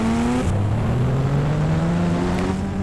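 A Bajaj Pulsar motorcycle being ridden, its engine droning loudly and steadily with the pitch shifting through gear changes, close and continuous with no talking.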